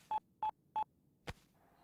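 Three evenly spaced beeps of a telephone keypad, clear and moderately quiet, followed by a single sharp click and a faint tone, with no talking.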